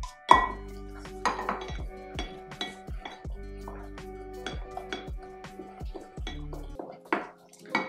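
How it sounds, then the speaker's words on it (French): Egg whites being mixed into almond powders in a bowl, a utensil clinking and scraping against the sides in irregular sharp taps and rings, close and clear with no talking. "Et maintenant, on va mélanger."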